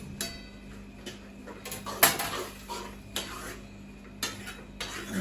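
Cheese being stirred into Maggi noodles in a cooking pot: light metal spoon scrapes and clinks against the pot, several soft taps and one sharper clink, steady low hum beneath.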